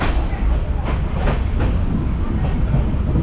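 Shalimar–Puri superfast express train running, a steady loud rumble of wheels and carriage noise with faint rhythmic clicks, continuous throughout.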